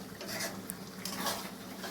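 Chicken with onion and spices such as chilli, turmeric, coriander and cumin being stirred and fried in a pan, with soft scraping and light clinks of a spatula against the metal over a quiet, faint background.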